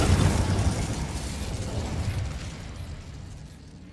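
A fire spell cast in the Hogwarts Legacy video game bursts out as a loud, rumbling blast of flame, then fades gradually over about four seconds with no talk over it.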